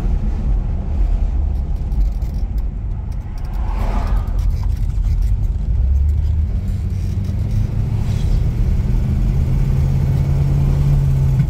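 A 1965 Ford Thunderbird Special Landau with the 390 Z-code V8 pulls away and runs up through the gears, a deep, heavy engine rumble heard from inside that swells and settles with each shift, and the pitch climbs steadily toward the end.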